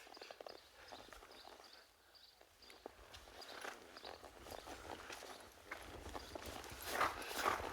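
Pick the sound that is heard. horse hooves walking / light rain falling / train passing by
horse hooves walking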